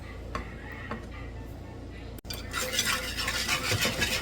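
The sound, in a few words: whisking chili relleno sauce with seasoning and bouillon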